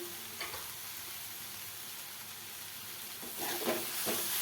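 Spicy village-style dried shrimp (sukat) chutney sautéing in a pan, a soft continuous sizzle with occasional stirring scrapes that grow louder toward the end, no voices.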